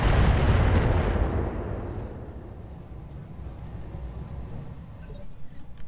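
A heavy booming blast of mech weapons fire in the Roguetech battle game, loud at first and then slowly rumbling away into a low background din, with no voices.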